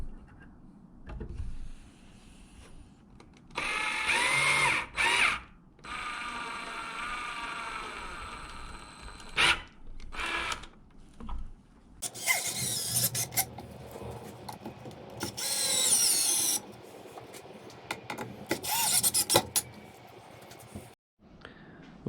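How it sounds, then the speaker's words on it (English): Power drill countersinking a screw into a 2x6 wood shop stool, with several loud bursts of high whining grind separated by short pauses, close and alone. "that's just so I can countersink the screw"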